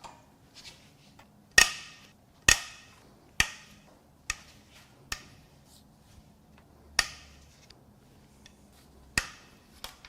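Sharp, loud cracks ring out one after another at irregular intervals as a breaker bar breaks loose the cylinder head bolts on a damaged GMC Yukon 6.0L V8 engine, with quiet shop background between each snap.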